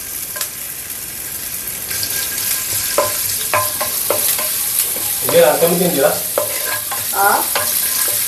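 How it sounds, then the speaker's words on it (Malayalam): Ginger sizzles loudly in a hot pan while a spoon stirs it, producing steady frying hiss punctuated by scraping, clinking strokes against the pan, with no talking. "ഇതെല്ലാം കൂടെ നമുക്കൊന്ന് ചെറുതായിട്ട് വഴറ്റിയെടുക്കാം"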